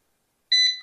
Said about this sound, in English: The controller will beep.